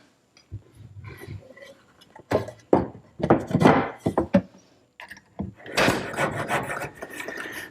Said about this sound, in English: A lot of sanding and more sanding